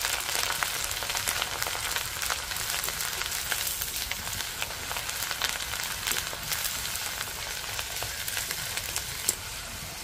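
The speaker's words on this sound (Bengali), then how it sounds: "তেল খুব ভালো করে গরম হয়ে গেছে, আমি এবার এর মধ্যে পেস্টটা দিয়ে দিচ্ছি।" Leftover rice paste sizzles steadily in hot oil while being fried into a crunchy kurkure-style snack, a dense, even crackle that runs close and continuous with no talking.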